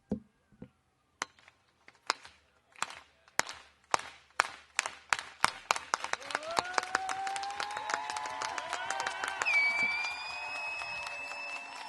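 At a congressional news conference, a few isolated hand claps slowly quicken and multiply, swelling into steady group applause; a whistle-like tone sounds over the clapping near the end.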